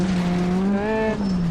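A car on a rutted safari track strains through deep ruts, its engine note climbing steadily in pitch, then easing off after about a second; loud and close, with no talk.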